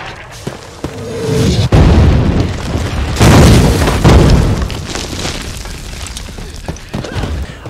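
An artillery barrage from the Band of Brothers episode "The Breaking Point" sends heavy explosions booming one after another. Deep rumbling blasts and crackling debris overlap loudly and close by throughout, with no talk.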